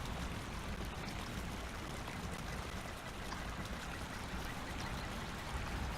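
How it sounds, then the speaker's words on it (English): Waterfall rushing in a Harry Potter RPG video game: a steady, dense wash of falling water, continuous and fairly close, with no other sounds standing out. "And I'm right next to the waterfall."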